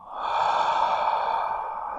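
A person in a hypnosis session breathes out deeply in one long, soft, airy exhale lasting about two seconds, close and quiet, with no talking over it.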